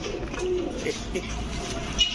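Pigeons coo softly in a Bengali pigeon shop, low murmuring calls rising here and there over a steady background hum.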